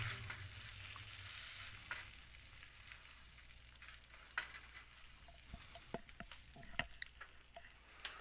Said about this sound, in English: the bread is absorbing all the butter, and we'll toast on the both sides.